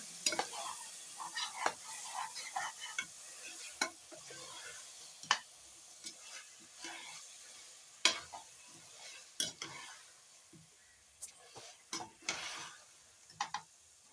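Quiet scraping and clinking of a spoon stirring marinated mutton in a hot pot for biryani, with scattered sharp taps against the metal and a faint sizzle underneath.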